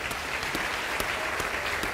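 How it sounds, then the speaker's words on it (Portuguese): A church congregation applauds during a Christmas sermon, a continuous soft bed of many hands clapping with a few sharper claps standing out, fairly faint and without speech. "Você pode aplaudir a Jesus?"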